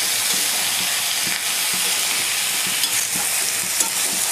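Boiled, drained banana flower and Gobindobhog rice are stirred in a hot pot outdoors in a forest, a loud steady sizzle broken by regular soft scrapes of the spoon.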